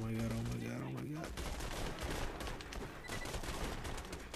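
Sustained automatic gunfire from a light machine gun in the video game Borderlands 2, dense rapid bursts running loud throughout, with a brief tonal game sound at the start.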